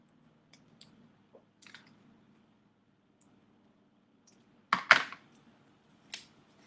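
Scissors cut around colorful paper fish shapes in a quiet room, giving sparse, close snips with a louder cluster of cuts near the end and no talk.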